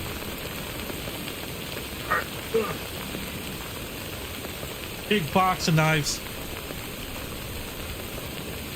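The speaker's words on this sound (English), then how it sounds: "let's get out of the rain because reasons" Steady rain hiss fills the Death Stranding game scene, a constant wash of noise with brief game sounds and a short spoken line partway through.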